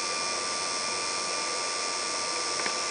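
A spindle motor spins at about 5,000 RPM with a steady, smooth high whine and hum, constant and close throughout with no voices.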